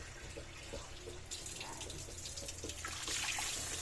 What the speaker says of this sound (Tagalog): Lagyan natin guys ng tubig.